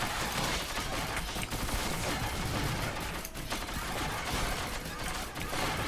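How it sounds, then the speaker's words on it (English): Rapid volleys of missiles firing from an ATG Missile Mk. II item in the video game Risk of Rain Returns, a dense continuous barrage of launches and explosions mixed with other game sounds. "But in this one it shoots like a bunch of missiles."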